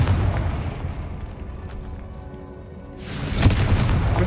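A Confringo blast from Hogwarts Legacy, a sustained low rumbling roar that swells again into a bright, crackling burst near the end, loud and alone without any talk.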